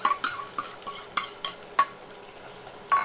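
A spoon scrapes and clinks against a pan as mutton is stirred with ground onion, cashew, clove and cardamom paste, the sharp metallic knocks coming every few tenths of a second over a faint sizzle.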